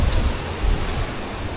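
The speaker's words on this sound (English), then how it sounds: "I'm not too sure if you can hear me pretty well because it's kind of windy out here" Wind blows outdoors in a steady low rush, buffeting the microphone with soft gusts and rumble, no voice present.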